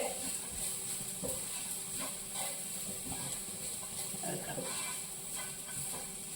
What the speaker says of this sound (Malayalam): ഗരം മസാല ഇത്രയും കൂടെ നന്നായിട്ടൊന്ന് ഇളക്കി യോജിപ്പിച്ച്